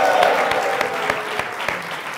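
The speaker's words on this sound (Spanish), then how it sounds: "Un aplauso para Mariano, por favor" Steady applause from an audience, dense clapping with a few sharper claps standing out, continuing throughout at moderate loudness.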